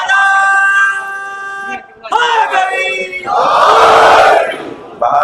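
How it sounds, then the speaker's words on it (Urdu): A large congregation at a Shia majlis in Hyderabad, Sindh, chants salawat loudly in unison, with drawn-out voices rising and falling over about five seconds, close and reverberant, ending in a burst of massed shouting. "صلوات پڑھے محمد و آل محمد۔"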